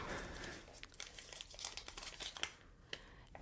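Folded pieces of paper being unfolded close by, a run of crisp crinkles and rustles with short sharp tears of sound over about three seconds, no talk.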